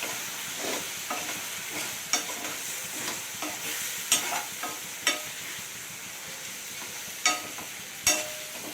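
Paneer masala curry with chillies sizzles in a pan as a spoon stirs it, with repeated sharp scrapes and taps against the metal over a steady frying hiss.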